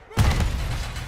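A grenade explodes in Call of Duty MWIII Warzone: a single sudden, heavy blast that is loud and close, with a booming low-end burst that slowly fades into a rumbling tail.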